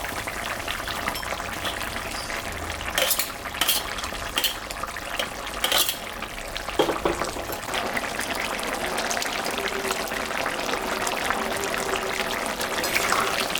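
Lata fish go into a reduced, simmering gravy of Malabar spinach and stems in a pot, with a steady bubbling hiss throughout and a few brief clinks and splashes as the pieces are added.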